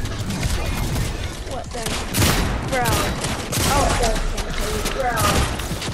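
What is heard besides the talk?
heavy assault rifle firing in the video game Fortnite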